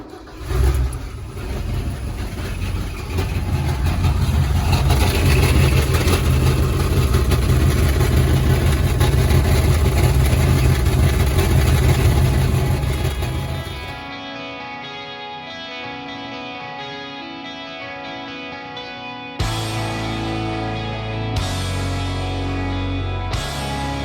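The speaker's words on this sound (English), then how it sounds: "I'll show you what this muffler sounds like." A Ford F100 engine runs through a stainless steel muffler exhaust with a loud, rough, steady drone. Partway through it drops to a quieter idle, and a sharp rev bursts back in near the end.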